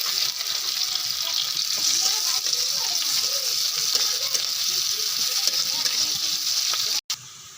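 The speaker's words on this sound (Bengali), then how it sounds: "তেলের মধ্যে আমি এক একে শুকনো লঙ্কা, 5 ফোড়ন, পেঁয়াজ," Dry chillies, five-spice and onion fry in hot oil with a steady, fairly loud sizzle and crackle, carrying on evenly before a brief cut near the end.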